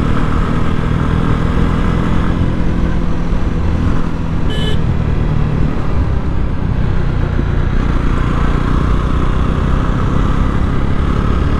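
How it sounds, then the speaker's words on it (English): A 2020 Jawa 42 BS6 motorcycle engine drones steadily while riding, loud and close with constant road and wind noise throughout. "feels so nice riding this bike"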